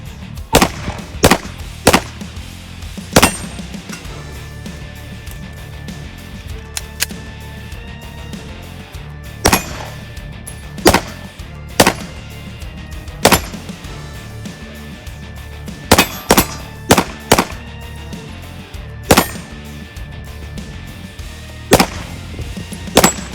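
Glock G17 pistol firing at a target on a range, sharp loud single shots spaced irregularly, sometimes in quick pairs, with no talking.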